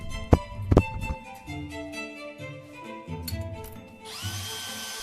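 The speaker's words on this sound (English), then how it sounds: "I'll just use my drill." A power drill, used to start an HPI Savage XL nitro RC car engine, revs in short, whirring bursts that shift in pitch, after a couple of sharp knocks, then a higher whine at the end.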